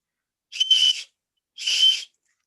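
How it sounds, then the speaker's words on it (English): Two short, shrill blasts from a small emergency whistle built into the end of a flashlight, each about half a second long with a pause between, loud and close with no talking. "So there's a little whistle there."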